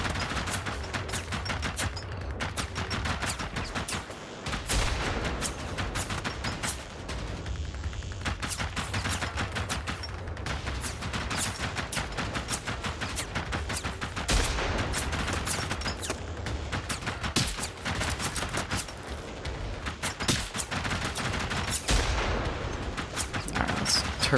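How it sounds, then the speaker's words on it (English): Rifle fire, including a bolt-action sniper, in the Generation Zero video game: loud gunshots cracking again and again in dense, irregular bursts over a constant rumbling background. "this is a bolt action sniper, but if you shoot and immediately unscope, you completely negate the rechamber"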